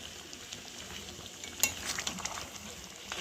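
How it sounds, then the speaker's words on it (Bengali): Chicken being stirred in a pan with grated gondhoraj lemon zest, a continuous close sizzle broken by scraping and light clinks of a utensil against the pan. "স্কিনটা গ্রেট করে রেখেছিলাম, সেটা আমি দিয়ে একটু নেড়ে নিচ্ছি ভালো করে।"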